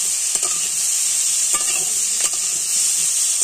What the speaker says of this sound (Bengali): এবার কাঁচা লঙ্কা দিয়ে একসাথে ভেজে নেবো। কিছুক্ষণ ভাজা ভাজা করে নেওয়ার পরে আমি পুঁইশাকগুলো দিয়ে দেবো।